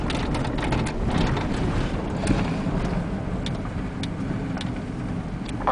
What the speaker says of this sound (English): it does go down the road nice and straight